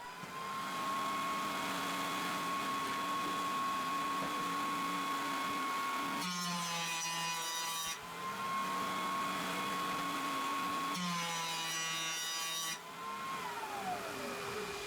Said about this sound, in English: First on the joiner I get a flat face and then one side square to that.